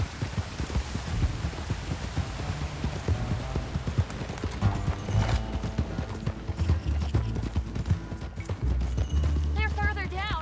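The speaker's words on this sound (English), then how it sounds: "Okay, get on your horse." Horse hooves clip-clop steadily in the open-world Western game Red Dead Redemption 2, a loud, continuous rhythmic trot with other hoofbeats mixed in and voices talking over it.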